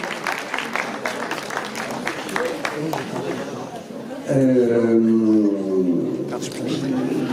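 A crowd at a spring poetry gathering in Vence claps briskly for a few seconds, then the applause thins out as a voice starts speaking over the fading clapping.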